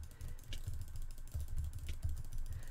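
Rapid keyboard typing and mouse clicking during PvP gaming, a steady close clatter of keystrokes with a few sharper clicks and no talk.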